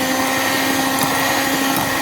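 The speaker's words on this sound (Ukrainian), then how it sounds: "вливаю соняшникову олію теж перемішую блендером" A blender whirs continuously, close and steady, while mixing sunflower oil into a milk-based pie batter, with no speech.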